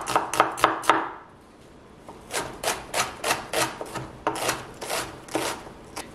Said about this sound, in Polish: Następnie zabieramy się za cebulę i kroimy w drobną kostkę.